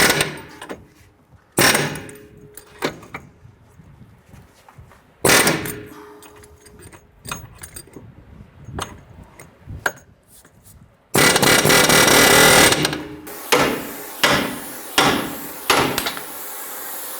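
Metal-on-metal hammering on a 1994-2004 Ford Mustang front lower control arm and ball joint, loud sharp clangs spaced irregularly at first, then a dense noisy stretch with rapid repeated strikes.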